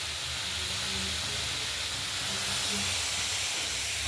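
Food steams in a pot beside lentils and rice in a home kitchen, giving a continuous broad hiss that stays steady and fairly loud throughout.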